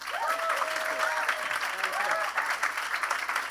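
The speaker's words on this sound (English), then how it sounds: "please give him a warm round of applause" Conference audience at the 2018 Affordable Medicines Now event applauding as Representative Ro Khanna is introduced; dense, steady clapping fills the whole stretch at close range.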